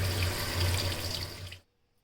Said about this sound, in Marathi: चांगल्या स्वच्छ पाण्याने धुवून घ्यायच्या.